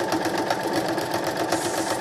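A sewing machine stitching binding onto a quilt, giving a fast, even mechanical whir with rapid needle ticking, close and moderately quiet, running continuously.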